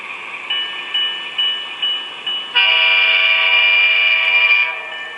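A CN locomotive on a model railroad hums with steady tonal engine drones and soft rhythmic pulses, then sounds a loud sustained horn blast of about two seconds before settling back. No one speaks.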